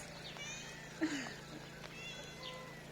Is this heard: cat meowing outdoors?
yes